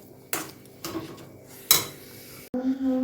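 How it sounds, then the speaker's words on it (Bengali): Semolina being stirred in a metal pot, with several sharp clinks and scrapes of a spoon against the pan, loud and close, then a brief ringing clatter of utensils near the end. "এদিকে সুজিটা একটু নাড়তে হবে, বসে গেছে।"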